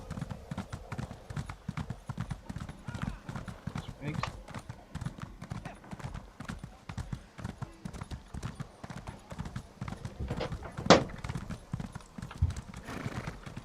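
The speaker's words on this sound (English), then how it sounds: "Also, my horse is faster now." Rapid rhythmic hoofbeats of a galloping horse in the video game Elder Scrolls Online pound continuously, with a brief whinny partway through and a voice talking over them.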